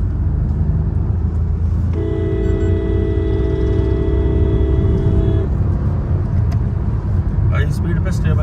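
Citroen C3 Aircross driven at high speed: steady, loud cabin road rumble with a sustained humming tone in the middle and brief voices near the end.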